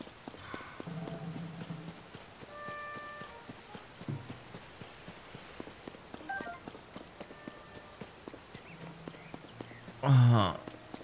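Rain patters steadily in the video game Zelda Tears of the Kingdom, with soft drops under game chimes, tones and someone talking.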